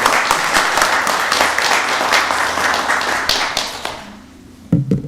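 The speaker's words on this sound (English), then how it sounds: "Let's give CJ another round of applause." A round of applause at a county board of commissioners meeting, steady dense clapping from the room for about four seconds before tapering off, followed by a few faint knocks and shuffles.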